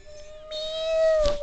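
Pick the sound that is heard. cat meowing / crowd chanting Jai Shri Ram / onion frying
cat meowing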